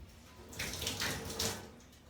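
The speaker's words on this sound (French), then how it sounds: "Donc je le rince bien, donc c'est la dernière fois que je rince." Water running from a tap as a hand is rinsed, a steady splashing flow that swells in a few louder bursts, close and alone with no talk.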